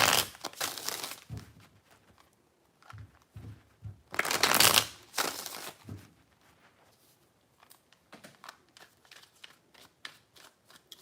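Tarot cards being shuffled in several crisp, rustling bursts, close by, with pauses and softer card handling in between.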